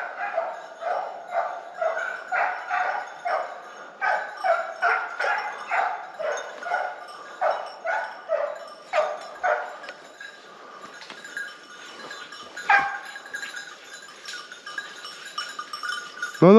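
Hunting dogs on a wild boar drive bark over and over in a steady, regular rhythm at middle distance, then, having lost the boar's trail, the barking thins out and turns more scattered.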